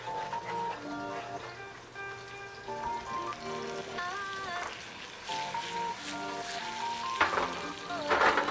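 Baby carrots sizzle steadily in a hot pan, a continuous frying hiss lasting throughout, with sustained musical tones running underneath.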